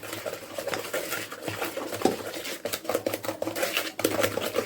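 Eggs being mixed into a butter mixture with a wooden spoon for coconut banana bread, a busy, continuous patter of wet scraping and clacking against the bowl, close and steady, with no voices.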